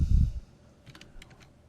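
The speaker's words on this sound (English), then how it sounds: "I'm going to type in brown." A few faint computer keyboard clicks from typing a layer name in Photoshop, following a short low thump at the start, in an otherwise quiet room.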